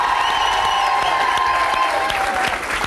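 A French television game show's studio audience applauds loudly and steadily, a dense wash of clapping with faint cheering mixed in throughout the short burst.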